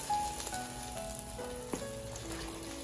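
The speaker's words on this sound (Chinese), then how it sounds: "把所有的蕨菜都焯一下水" Fern shoots blanching in a pot of boiling water, with a steady soft bubbling and sizzling hiss and a few small clinks close by.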